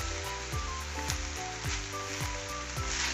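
Rice tossed and fried in a pan over a high flame sizzles steadily, broken by rhythmic scraping and tossing strokes about twice per second, close and moderately loud.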